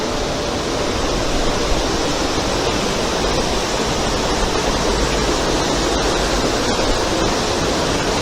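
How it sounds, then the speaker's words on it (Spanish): Water crashes down with force in the La Yecla gorge near Santo Domingo de Silos, Burgos, a loud, continuous broadband roar close by, unbroken and without voices. "Fijaros con qué fuerza cae aquí el agua."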